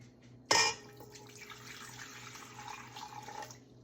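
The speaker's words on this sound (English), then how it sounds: "you're gonna add a 2nd cup to make a total of 2 cups of warm water" Warm water for homemade bread dough pours into a measuring cup, starting with a sharp splash and then running as a steady, moderate stream for about three seconds before stopping.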